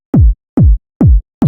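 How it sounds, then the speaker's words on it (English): Four punchy techno kick drum hits, the original unprocessed sample, each a deep booming thump with a quick pitch drop, evenly spaced and loud, with no other sounds. "This is what the original kick sounds like."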